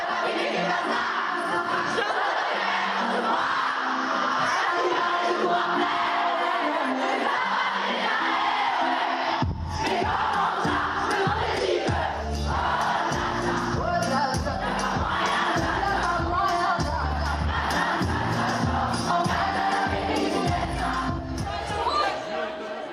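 Crowd at a concert in Paris cheering and shouting, a loud continuous roar of many voices that swells further as heavy bass-driven music kicks in about halfway through.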